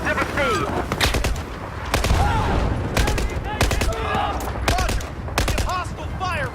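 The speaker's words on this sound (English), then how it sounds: "Hostile fire pinning us down!" Battlefield 4 combat erupts with repeated heavy gunshots and explosive bursts, loud and close, mixed with whistling ricochet-like effects across the whole stretch.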